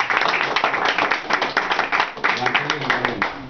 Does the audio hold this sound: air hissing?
no